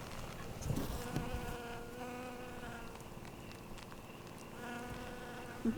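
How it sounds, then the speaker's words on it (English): A bee buzzes close by among green bean plants in an Australian homestead vegetable garden, a steady droning hum that rises and falls for several seconds with faint rustling underneath. "Hi, bee."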